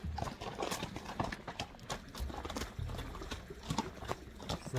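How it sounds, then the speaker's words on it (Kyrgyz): A strong, powerful horse clip-clops along with repeated irregular hoof knocks at moderate distance, steady pacing over light background noise and no talk. "Мына өтө палван ат экен туугандар."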